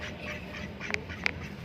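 A pet duck gives two short, sharp quacks about a third of a second apart, close by and fairly clear over a steady low background murmur.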